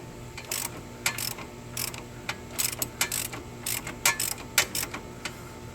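A hand ratchet removing a lower nut during a driver-side CV axle replacement on a 2011-2019 Ford Explorer, giving irregular bursts of quick metallic clicks, close and clear with no talk.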